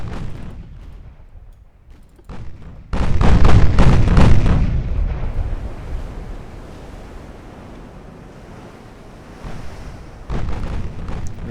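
Naval artillery firing at battleships in Ultimate Admiral: Dreadnoughts, a few scattered distant shots, then a loud burst of heavy gunfire and booms that trails off into a low rumble, with another shot near the end.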